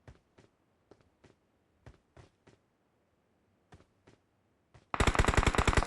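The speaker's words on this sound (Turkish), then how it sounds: "Aa sıkıyorlar." Gunfire in the mobile battle royale game PUBG Mobile: scattered single shots heard faintly at a distance, then a sudden loud, rapid burst of automatic fire up close at the end.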